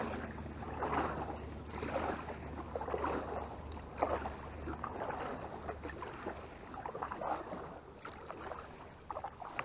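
An Old Town Pathfinder kayak is paddled on open water, with soft rhythmic paddle strokes and water swishing in a steady cycle, quiet and close, with light wind noise and no talk.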